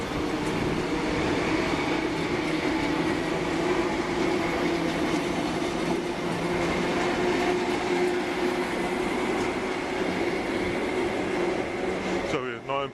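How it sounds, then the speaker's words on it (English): Standard passenger train passing through a Wellington railway station platform, a steady loud rolling rumble with rail hum and wheel noise lasting throughout, ending abruptly. "Standard train."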